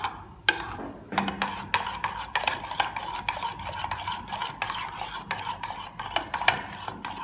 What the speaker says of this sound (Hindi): अच्छी तरह से स्पाइसेस मिक्स हो गए।